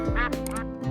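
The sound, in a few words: broiler ducks quacking, about 29 days old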